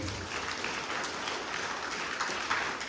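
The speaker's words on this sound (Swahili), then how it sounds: "Pigie Yesu makofi na vigelegele." A church congregation claps and ululates in praise of Jesus during a Sunday service, a steady dense wash of applause filling the room at moderate level without pause.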